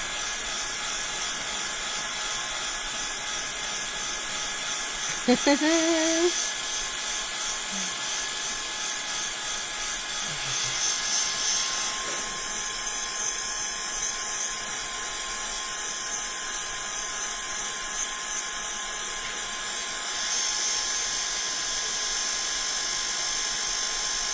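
A handheld dryer blasts air over craft paint on a book box diorama, giving a steady whirring, buzzing drone close by. Its pitch wavers now and then, and there is a brief clunk early on.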